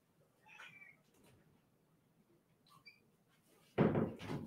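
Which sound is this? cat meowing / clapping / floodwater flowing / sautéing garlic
cat meowing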